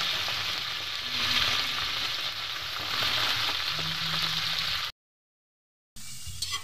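Kangkong (water spinach) cooked with oyster sauce fries loudly and continuously in a pan with a dense, close sizzle and some stirring. It drops to silence for a second and then resumes.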